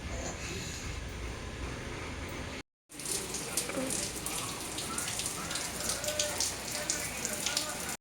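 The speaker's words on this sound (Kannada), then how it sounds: "ಈಗ ಬಿಸಿಲು ಹತ್ತೈತೆ, ಮಳೆ ಬಂದುಬಿಟ್ಟು." Rain falls steadily outdoors with a dense patter on surfaces, broken by a brief gap, then resumes slightly louder with scattered nearer drops.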